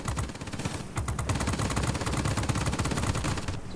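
Rear gunner machine gun fire from an A-26B bomber in World of Warplanes, a continuous rapid rattle of shots lasting several seconds, dense and steady, with no talking.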